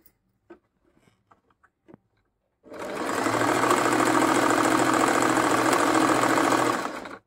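A Singer M3505 sewing machine stitches a buttonhole, a loud, close, steady mechanical whir running for about four and a half seconds after a few quiet clicks and taps.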